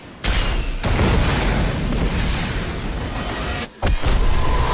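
The Singularity Cannon in the video game Red Faction Armageddon detonates with a huge, sustained booming roar that fills the sound for a few seconds, breaks off briefly, then surges again.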